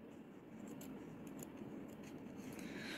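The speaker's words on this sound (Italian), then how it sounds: "qui vado con le forbici più piccoline" Faint, quiet snips of small scissors cutting through fabric, a few soft clicks spaced irregularly over a low background hiss.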